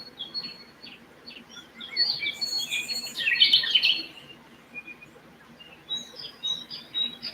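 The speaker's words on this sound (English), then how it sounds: "It's a chipmunk, all right." A tiny baby chipmunk chirping outdoors, faint high sharp chirps and squeaky calls in scattered bursts over quiet background.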